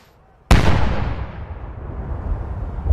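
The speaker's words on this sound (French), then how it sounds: "À Green Park, des coups de canon ont été tirés en son honneur." A single loud ceremonial cannon salute booms in Green Park, London, after a quiet moment, followed by a long rolling echo that slowly fades.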